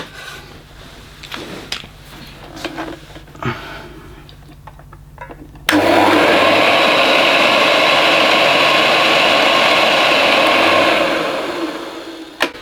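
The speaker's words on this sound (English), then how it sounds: "That motor sounds very good though." A 1981 Hoover Senior U4186 upright vacuum cleaner runs with its plate off, its motor starting abruptly midway with a loud, steady whine and roar that holds constant for several seconds before tapering slightly; quiet handling noises precede it.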